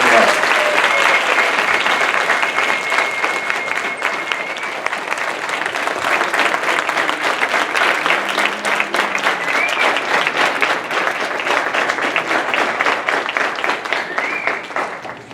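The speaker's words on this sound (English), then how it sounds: "let's give them a huge round of applause for all they've done for us" Large graduation audience applauding parents, loud sustained clapping from many hands filling the room without pause, with voices and cheers mixed into the dense roar.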